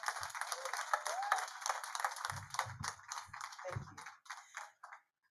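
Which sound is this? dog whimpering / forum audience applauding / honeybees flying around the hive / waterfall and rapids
forum audience applauding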